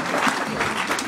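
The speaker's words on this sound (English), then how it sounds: "that's worth an applause" A brief swell of audience applause at a senator's speech at Salish Kootenai College, a short patter of clapping at moderate volume.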